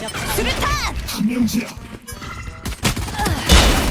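A bomb is thrown and explodes in a video game amid busy, clattering game effects, with a sharp burst near the end. A person talks excitedly over much of it.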